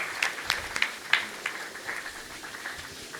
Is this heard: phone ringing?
no